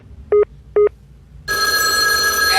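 A cellphone gives two short, loud electronic ring beeps close by, then a burst of broadband noise and music-like tones takes over.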